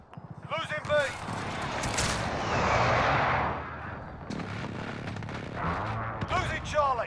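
Airstrike explosions and gunfire in Call of Duty Modern Warfare: a long rumbling blast swells and fades amid sporadic shots, with radio voices talking over it.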